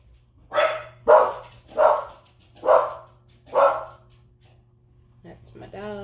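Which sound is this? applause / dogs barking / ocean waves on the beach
dogs barking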